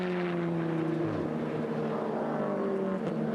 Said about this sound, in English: Great variety of engine noises passing our effects mics on the Grand Prix circuit